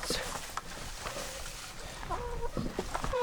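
Chickens at a farm coop cluck and make short calls in scattered bursts, close by and moderately loud, with no talking.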